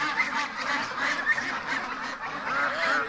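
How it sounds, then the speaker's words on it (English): Canada geese honk continuously in a noisy, overlapping chorus, somewhat distant, with no voices. "I could hear the Canada geese down at the lake losing it."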